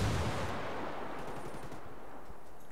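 Rapid gunfire in ranked PvP matches of Ghost Recon Wildlands, a continuous rattling barrage of rifle fire that starts loudest and then holds steady at a moderate level, slightly distant, with no talking.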